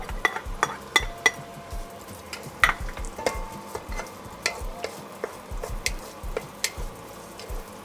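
Onions and garlic sauté in peanut oil in a pan for a chicken curry, a low sizzle under repeated sharp clinks and scrapes of a utensil against the pan in an uneven stirring rhythm, close and fairly clear.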